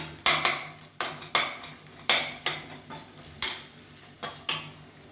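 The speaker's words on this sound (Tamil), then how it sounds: "இது நல்லா வதக்கி விட்டுக்கலாம்." A metal spoon scrapes and knocks against a pan while masala cooked with curd and oil is stirred and sautéed, giving about nine sharp, close scraping strokes in a steady rhythm over a faint sizzle.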